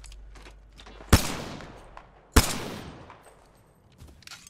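Gunfire from the video game Apex Legends: two sharp, loud shots crack a little over a second apart, each trailing off in a fading echo, with faint scattered distant shots and noises between them and no speech.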